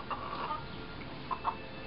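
Australorp chicken clucking close at the feet outdoors, a few soft short clucks, one early and a pair near the end, faint over a low background hiss.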